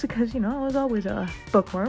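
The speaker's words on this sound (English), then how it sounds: "I don't know if you can hear him meowing" A small fluffy house cat named Soren meows loudly and repeatedly, drawn-out tonal cries close to the microphone, mixed with a person talking in the same room.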